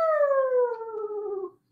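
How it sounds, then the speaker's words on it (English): A dog howls close by, one long clear tone that slowly drops in pitch for about a second and a half before trailing off. "Did she just howl at him?"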